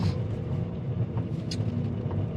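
A derelict fire-damaged Mercedes SUV's engine runs at idle, a faint, steady low rumble with a couple of soft ticks and clicks over it.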